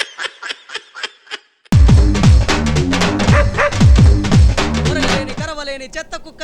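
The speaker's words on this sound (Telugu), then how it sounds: "కరవలేని చెత్త కుక్క ఎవడురా?" A dog gives a few quick yips, then loud clustered barks break in among voices talking and laughing, with comic music stings over the noise.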